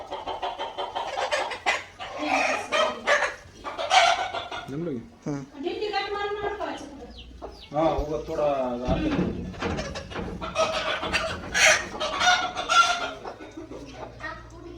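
Chickens cluck and squawk close by while people talk over them, with a rooster's call rising briefly amid the chatter.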